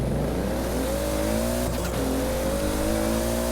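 A Toyota Supra drag build in Forza Horizon 4 revs hard at the launch, a loud sustained engine drone that climbs in pitch, dips briefly, then rises again as it pulls away.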